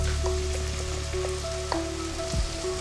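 Sliced okra frying in a pan for okra stir fry, a steady close sizzle with faint scraping stirs, with no voices.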